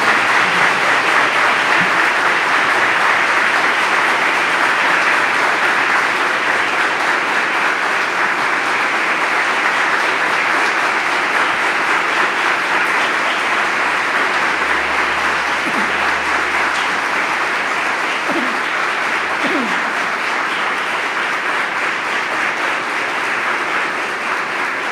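An audience at a church service welcomes a reverend with sustained applause, dense and loud clapping that fills a large hall and carries on without a break.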